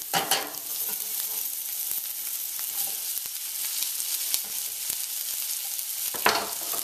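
Garlic and onion frying in a hot pan give a steady close sizzle, with a few sharper crackles and spatters near the start and near the end.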